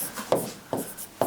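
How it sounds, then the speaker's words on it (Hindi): A marker or chalk writes a word on a classroom board, giving three short scratchy strokes close by in a quiet room with no voices. "यहां शब्द लिखता हूं वातावरण"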